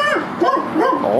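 A pet dog barks and yips in a home, giving several close, loud, wavering cries in quick succession, some sounding whiny, with no one talking over them.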